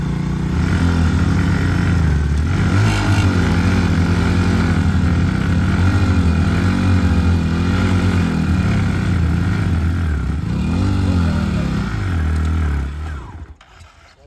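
A Hero Splendor and a Bajaj Platina, both 100cc motorcycles, rev hard in a pulling race, their engines droning loud and close with rising and falling pitch before cutting off near the end.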